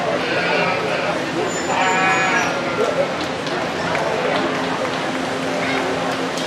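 Piebald sheep in a livestock show ring at the 2021 Box Butte County Fair, with a few bleats rising through a noisy arena background while an announcer talks over them.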